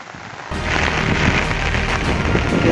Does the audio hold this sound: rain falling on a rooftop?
yes